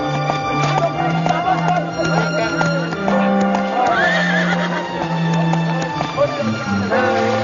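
A cartoon horse neighs loudly while hooves clip-clop steadily beneath, set against a busy, continuous backdrop of tonal sound.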